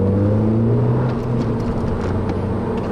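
A 2010 Volkswagen GTI accelerates hard, its exhaust and engine note climbing steadily in pitch as revs build, heard from inside the car without talk.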